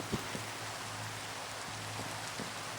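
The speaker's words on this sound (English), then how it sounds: "watched the rain fall" Steady, soft rain hiss in Minecraft with a few faint drops pattering, continuous and even throughout, no voices.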